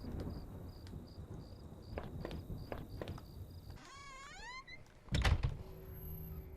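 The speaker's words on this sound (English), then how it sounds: "Sounded like it was going to start raining again." In a video game, low thunder rumbles over soft rain and chirping insects, with faint tapping knocks, a rising warbling tone midway, and a louder thunder crack near the end.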